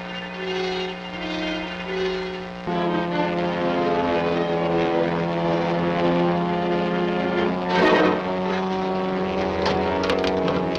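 A propeller airplane engine drones steadily in flight in an old science fiction adventure serial, loud and continuous, with the pitch shifting after a few seconds and brief rattling noises near the end.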